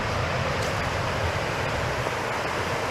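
A creek beside a hiking trail flows in a steady, broad rush of water that stays even and unbroken throughout, fairly close and with no one speaking.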